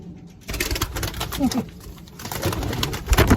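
Agitated racing pigeons in a breeder's loft coo and flap close by, with busy rustling and wing patter filling the space after a quiet start.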